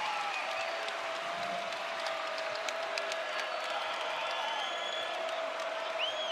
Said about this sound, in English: The student section with those gloves to make the claps even louder are making themselves heard.